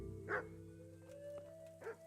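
A dog in Kingdom Come: Deliverance barks twice, two short, moderately loud woofs about a second and a half apart, over a steady tonal music bed.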